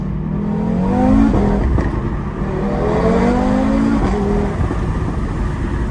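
Audi TT RS MK3 with a turbocharged engine and DSG dual-clutch gearbox, loud and close, revving through rising tones with quick gear changes, burbles and pops, and no talk.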